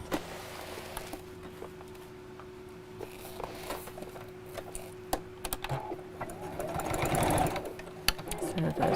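A sewing machine stitches fabric for a pram quilt, with a steady mechanical whir and needle patter running throughout. The sound is fairly quiet and builds louder toward the end, with no talk.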